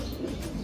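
Racing pigeons cooing in a loft, a short, soft, low murmuring coo close by, lasting under a second.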